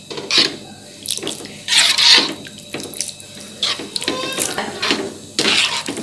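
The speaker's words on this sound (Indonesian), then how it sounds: "Kita biar mendidih dulu." Water boiling in a pot splashes and gurgles in uneven bursts, close by, with intermittent louder surges and no voices.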